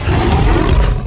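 A lion roars in a film scene, a deep, loud, sustained growl filling about a second, with no speech over it.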